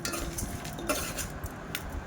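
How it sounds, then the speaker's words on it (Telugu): Coriander seeds, chana dal, cumin and fenugreek dry-roast in a pan on low heat, giving soft scattered clinks and scrapes of a spoon against the metal, fairly quiet with no voices. "సిమ్లో పెట్టి వేయించాలి ఇవి కూడా."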